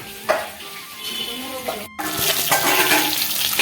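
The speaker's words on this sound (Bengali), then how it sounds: "এই যে ল্যাঠা মাছ আর শোল মাছ ভাজা হচ্ছে" Snakehead and spotted snakehead fish sizzle steadily in hot oil in a home kitchen pan, a loud continuous hiss with occasional stirring clinks, close by and without talk.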